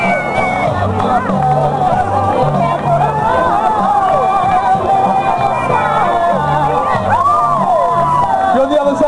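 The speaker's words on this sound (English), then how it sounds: "Keep that cheering going, giving everyone a little bit of support as they come through." Crowd at a Race for Life charity run beside a lake in Crawley, a steady hubbub of voices and cheering as runners pass, with music and whoops carrying throughout.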